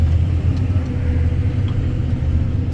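A loaded wagon driving away from a corral cleaning job, its engine a steady, loud, low rumble that stays close and even throughout with no voices.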